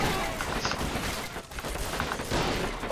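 Bursts of machine-gun fire in the game Men of War, rapid crackling shots in a busy battle mix with other distant gunfire throughout.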